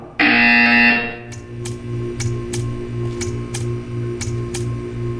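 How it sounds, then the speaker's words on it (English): A buzzer in the video game Portal 2 sounds one loud, steady harsh tone for about a second, then gives way to a repeating rhythmic pulse with sharp periodic clicks. "You will hear a buzzer."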